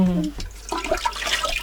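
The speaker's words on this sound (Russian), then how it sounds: "Сейчас мама нальет водичку." Water runs from a tap to be warmed for washing, a steady close splash and trickle lasting under two seconds, with a faint voice of a child or woman starting at the beginning.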